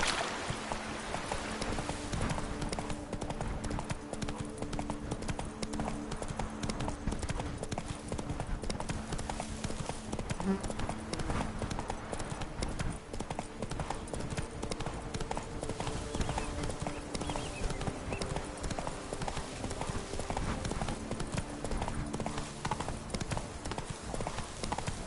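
A horse gallops in The Witcher 3: Blood and Wine, a rapid rhythmic clip-clop of hooves that runs steadily and loud for the whole stretch, with a brief whinny-like sound partway through.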